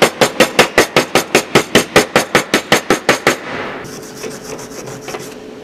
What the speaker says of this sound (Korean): 저 최대 한 220까지 올려서 4파이 용접을 좀 해보도록 하겠습니다.